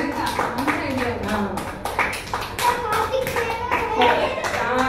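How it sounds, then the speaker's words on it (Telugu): Children at a church Sunday school clap in a quick, uneven burst of hand claps, nearby and moderately loud, with voices talking over the clapping. "ఒకసారి క్లాప్స్ కొట్టండి సాయి."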